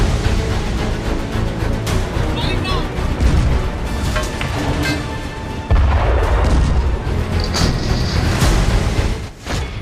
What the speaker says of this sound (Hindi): M777 अल्ट्रालाइट होवित्जर तोप।